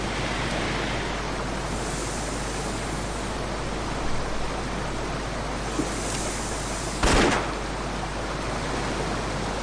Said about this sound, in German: weil der Wasserfall ist sowas von laut.